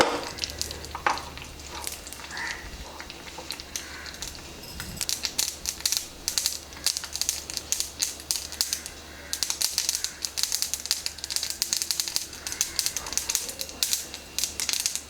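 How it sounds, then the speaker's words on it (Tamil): Mustard seeds and dried red chillies spluttering in hot coconut oil, rapid sharp pops and crackles in dense irregular bursts that grow busier over time, close and steady. "கடுகு நல்லா பொரிஞ்சிடுத்து"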